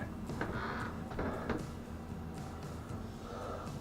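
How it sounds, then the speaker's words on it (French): A water pump runs aboard a Bavaria 38 sailboat, giving a quiet, steady mechanical hum with a few faint knocks and whirs over it. "on commence par allumer la pompe. Entendez, on a le petit bruit."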